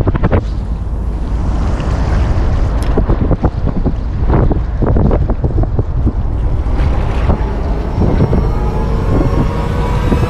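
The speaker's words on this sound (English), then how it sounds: "Very windy." Strong wind buffets the microphone on a boat out at sea during topwater kingfish fishing, a loud constant roar with gusty rumbles and water splashes throughout.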